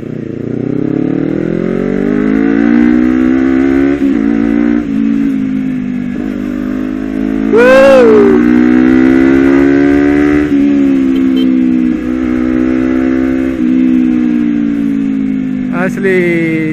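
A motorcycle engine tuned by an ECU remap runs loud and close, revving up and settling again over several cycles with a brief sharp rise in pitch midway, while someone talks over it.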